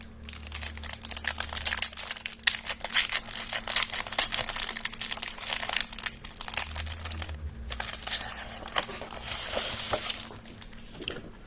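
A crinkly plastic package of double-sided tape being torn and opened, continuous close crackling and rustling with a low background hum and no talking.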